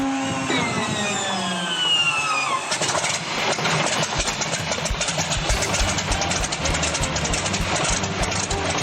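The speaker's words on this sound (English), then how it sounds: "the sound of the P-40 starting up" A P-40 fighter's piston engine whines as the starter turns it over, then catches at about three seconds and settles into a loud, rough, continuous rumble, at Oshkosh.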